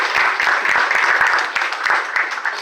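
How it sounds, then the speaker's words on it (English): Audience applause after a guest speaker's introduction, a dense steady clatter of many hands clapping at close range, sustained for a couple of seconds without talk. "Can we give him a round of applause?"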